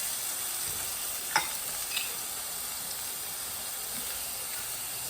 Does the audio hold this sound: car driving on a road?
no